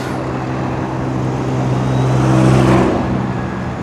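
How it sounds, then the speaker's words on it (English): A 202 Cherry Beach city bus passes along a street in Toronto's Port Lands, a steady loud engine rumble and road roar that swells as it goes by, heard from a moving vehicle, with no talking. "There's the 202 Cherry Beach bus."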